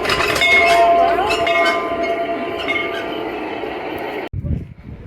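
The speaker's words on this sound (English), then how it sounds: "this has to ring the bell" A model Skunk Train in a railway display gives bright metallic bell dings over running-train rumble and clicking, close and fairly loud, then stops abruptly near the end, leaving faint background noise.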